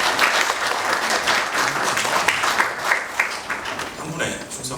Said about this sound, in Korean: 다시 한번 총장님께 큰 박수 한번 부탁드리겠습니다.